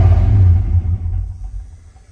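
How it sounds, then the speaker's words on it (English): A Dodge Ram 1500 engine with a stalling problem and a suspect idle air control valve is given throttle, producing a loud, close low rumble that swells briefly and then sags and fades, with no talking. "let's give her some throttle"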